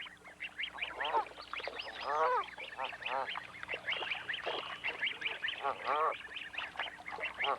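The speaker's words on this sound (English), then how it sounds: "Stately Canada geese, 2 parents and their tiny, furry, 10-day-old goslings, are on a feeding expedition of their own." Canada geese with their tiny ten-day-old goslings on a feeding outing, a dense chorus of honks and high peeping calls going on continuously and fairly close.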